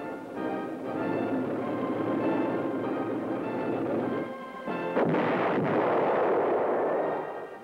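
Artillery guns firing during army gunnery training, a sustained heavy rumbling roar with a sharp blast around the midpoint followed by a loud booming wash, no voices.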